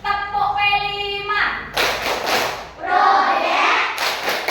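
A class of children claps out the P5 clap rhythm, sharp bursts of many hands together in two loud rounds, following a short chanted or sung lead-in.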